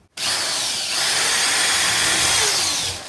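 A power drill whines steadily at close range, boring through a wooden chair for nearly three seconds before winding down.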